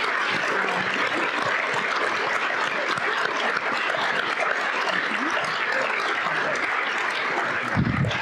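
Loud, sustained applause for panelists at a university event, a thick continuous roar of many hands clapping close by, with a brief low thump near the end.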